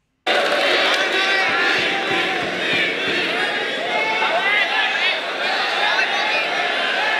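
Loud crowd at a rap battle erupting in cheers and shouts right after a line, a dense roaring wall of voices starting abruptly and holding strong throughout.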